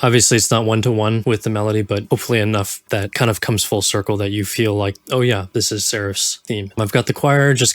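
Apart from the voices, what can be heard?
No distinct noise like a dog, phone or traffic.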